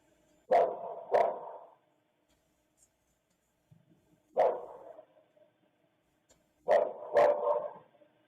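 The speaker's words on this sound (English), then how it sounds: "The dogs are still barking" Dogs barking outdoors at night on a residential street, several sharp barks in short pairs and singles separated by quiet gaps, moderately distant.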